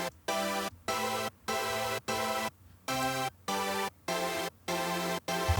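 A synth chord stack layered with high-passed white noise plays as short sustained chords in a steady rhythm, about eight blocks with brief gaps, quiet overall and a bright hiss riding over the tones.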